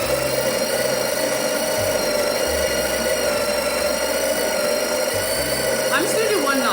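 A Breville Barista Pro's built-in burr grinder grinds coffee beans with a steady, close motor whir and gritty churning that holds unbroken for the whole stretch, with no talking.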